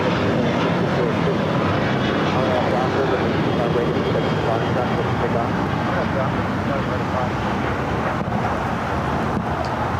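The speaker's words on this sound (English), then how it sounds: "Star Alliance United 737-800 taking off here on the south side." United Boeing 737-800 jet taking off at LAX, a broad steady engine roar heard from a distance across the airfield, with a voice talking over it.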